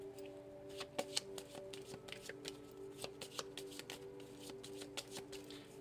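Tarot cards shuffled by hand during a two-card reading, a quick run of crisp riffling flicks and soft slaps, close and fairly quiet with no talking.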